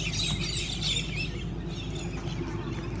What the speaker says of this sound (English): Look at the bird life.